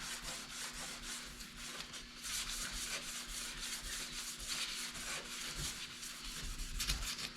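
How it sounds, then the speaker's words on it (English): Clear coat on a car panel being sanded during a spot repair blend on tri-coat pearl paint, a steady soft abrasive rubbing hiss in continuous back-and-forth strokes, close and fairly quiet. "Make sure all our edges are sanded."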